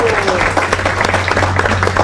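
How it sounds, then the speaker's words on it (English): Audience applause at a Krishna Fest gathering after a talk, a steady dense wash of many hands clapping that fills the whole moment without a break. "Let's give him a nice round of applause."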